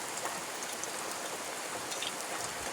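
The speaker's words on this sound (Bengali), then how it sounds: "কিন্তু দেখো কত বৃষ্টি হ্যাঁ এই বৃষ্টি" Heavy rain from Cyclone Remal pours down in a dense, even, unbroken hiss of drops striking surfaces, steady and moderately quiet throughout with no voices.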